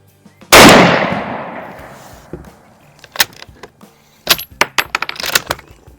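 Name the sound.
Mosin Nagant rifle shot fired at a target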